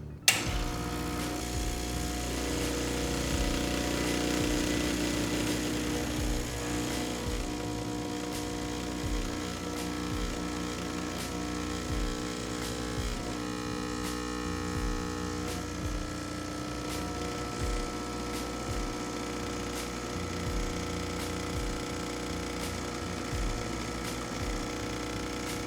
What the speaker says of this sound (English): Let's go ahead and pull the shot.